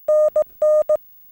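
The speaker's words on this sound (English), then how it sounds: "So a 5NN sounds like this." Morse code CW tones keying the signal report 5NN for a Parks on the Air contact: a steady single-pitch beep in crisp dashes and dots, loud and close, with no voice.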